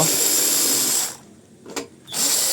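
Screws being undone on the underside of a rice cooker with a tool, ratcheting mechanical clicks and whirring that drop out briefly mid-clip with a short click, then resume, close and fairly loud with no talking.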